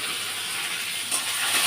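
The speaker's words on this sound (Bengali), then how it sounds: "এর মধ্যে টমেটোটা দিয়ে দিচ্ছি।" Tomato going into a hot pan with curry leaves gives a steady, loud hissing sizzle that fills the whole moment, with no voices over it.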